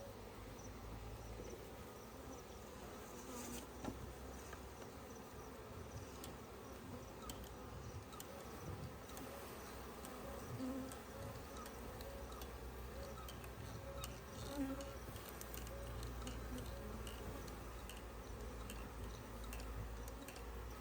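A dense, steady buzz of many bees fills the air around a tree trunk during a bee rescue. The faint swarm hum carries on with small ticks and knocks over it.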